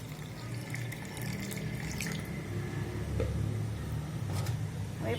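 Cornflour is stirred into cold water in a kitchen while making a Chinese vegetable dish, giving a soft, continuous liquid swishing and sloshing at moderate closeness.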